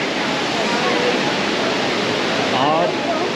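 Steady broadband rush of an indoor waterfall in a hotel lobby, a continuous wash of falling water filling the space at close range, with faint voices mixed in.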